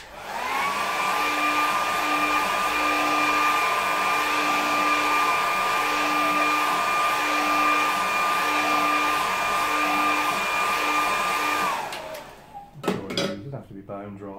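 A hair dryer blows on a watercolour painting, a loud, steady whirring roar with a high whine that holds for about twelve seconds before switching off, followed by light knocks and rustling.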